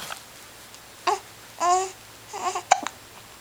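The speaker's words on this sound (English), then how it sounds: "Hiccups are a pain." A baby with the hiccups makes a few short, sharp vocal bursts with brief babbling sounds in between, close and fairly quiet against a calm indoor background, no adult talking.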